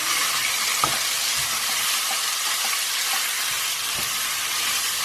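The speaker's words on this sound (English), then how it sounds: "So I'm now going to add some frozen peas, mix that through," Frozen peas are stirred into a sizzling Indian vegan chickpea masala in a pan, making a steady, close frying hiss with soft scraping stirs and occasional light knocks.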